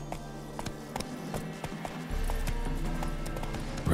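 Geralt's horse Roach galloping in the video game Witcher 3, a rapid run of hoofbeats drumming over a low rumbling game soundtrack, growing slightly louder partway through.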